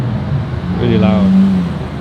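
An Audi RS6 drives past on a Zurich street, its engine note swelling loud and close before easing off as it goes by.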